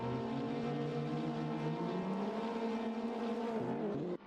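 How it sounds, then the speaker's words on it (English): Race car engines rev together on the grid at the start of a BTCC touring car round in Macau, a loud, sustained droning roar with rising pitch that holds steady and then cuts off abruptly at the end. "Engines are revving."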